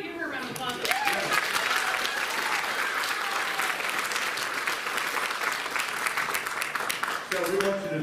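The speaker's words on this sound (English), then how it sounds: "So if you want to give her a round of applause." Audience applause fills a school choir spring concert at a junior/senior high school, steady dense clapping from a large crowd held throughout at a constant level, with a few voices calling out near the start and end.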